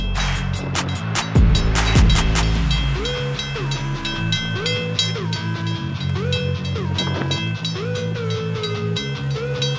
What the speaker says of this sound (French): Cette locomotive envoie de la neige dans tous les sens,